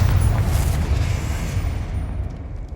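A Confringo explosive spell blast in the Hogwarts Legacy video game, a loud booming burst with a deep rumbling tail that fades over a few seconds.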